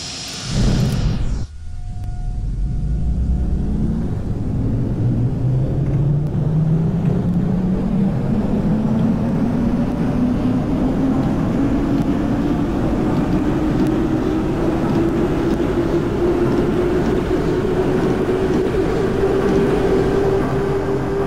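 A New York City Subway R27/R30 train on the BMT Eastern Division J line in the OpenBVE simulator pulls away, its loud traction motor whine rising steadily in pitch over heavy rumble after a brief chime at the start.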